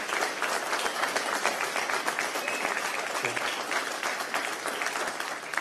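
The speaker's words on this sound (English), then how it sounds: "Give the Korean veterans a round of applause today." A large outdoor crowd gives sustained, dense applause for Korean War veterans at a Veterans Day 2019 gathering after a parade, the clapping steady and loud throughout without a break.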